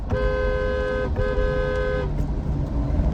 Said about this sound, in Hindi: एक मैंने हॉर्न चेंज करवाया, आप सुन सकते हैं।